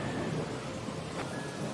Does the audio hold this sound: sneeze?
no